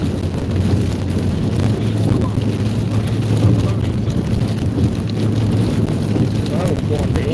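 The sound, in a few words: strong wind gusts hitting a car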